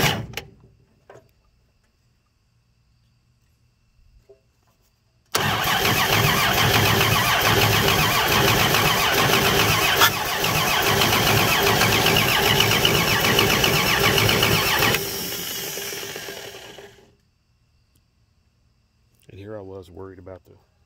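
A 239 V6 car engine starts for the first time after fuel is poured into the intake. Brief cranking catches into a loud, steady running engine that holds for about ten seconds, then winds down to silence, with speech at the edges.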